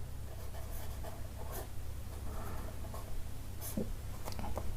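Quiet scratching of handwriting on paper or a board while Hindi and Urdu letters are being written, soft intermittent strokes over a low steady hum.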